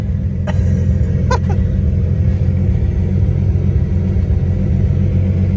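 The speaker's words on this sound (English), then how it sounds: "Holy wastegate right there." Nissan R32 with an RB20DET engine running on a dyno, a loud continuous low rumble with a few brief sharp hissing bursts from the wastegate, no talk.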